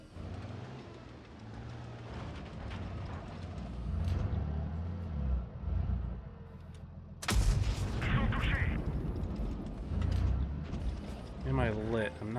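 Tank cannon fire in World of Tanks Blitz, booming shots over engine rumble and battle noise, with a sharp loud blast midway followed by continuing game sounds.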